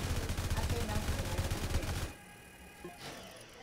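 Minigun turret in the Roblox game Tower Defense Simulator firing a rapid, continuous burst of gunfire for about two seconds, then cutting off into quieter background sound.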